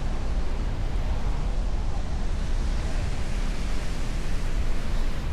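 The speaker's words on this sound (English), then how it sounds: "I don't know how much wind noise is going to be on this" Heavy wind buffets the microphone on an outdoor recording, giving a constant loud broadband rumble and hiss with no other sound above it.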